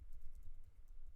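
Quiet typing of a search on a computer keyboard, a short run of soft, light key taps at an even pace, close and alone.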